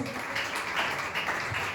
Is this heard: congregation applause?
yes